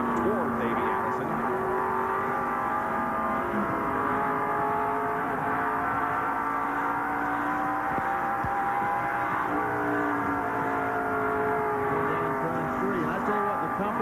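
Stock cars race at the 1989 Goodwrench 500, a dense, constant engine roar from the pack with shifting whines as cars pass, heard from an onboard camera under steady commentary.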